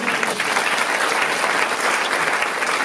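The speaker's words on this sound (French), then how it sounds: "on peut applaudir Jésus pour ça." Congregation applause during a French-language church jubilee service, a dense sustained clapping that fills the room evenly from start to finish with no pauses.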